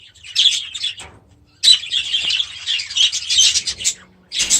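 Pet budgerigars chirp in busy, bright bursts from a breeding aviary, with a short pause near the start and several overlapping tweets following close to the listener.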